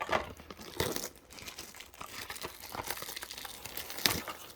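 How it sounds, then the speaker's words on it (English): A trading card booster pack is pulled and torn open close up, its foil crinkling and tearing in a continuous run of rustles and crackles, with a sharper rip near the end and no talk. "Why is this one so hard to rip?"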